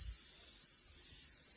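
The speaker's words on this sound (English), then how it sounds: "you're going to want to take the spray paint and you're going to want to spray it." Spray paint hisses steadily from a can onto a cosplay sword, a continuous broadband spray close to the microphone lasting under two seconds with no talking.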